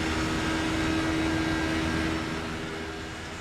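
An in-game race car from the iRacing simulator, Le Mans 6 Hours event, producing a steady droning engine whine with a sustained tone that gradually eases slightly in loudness, no voices over it.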